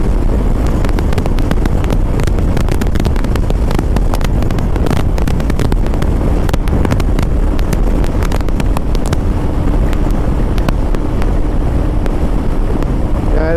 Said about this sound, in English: This is speed against the wind.